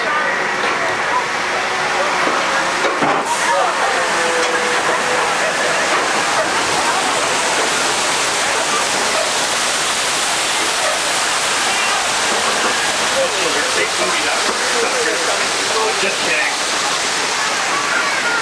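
Rushing, cascading water from the flash flood effect on a 1995 Universal Studios Hollywood tram tour, a loud continuous roar and splash that runs throughout, with a tour guide's voice talking over it.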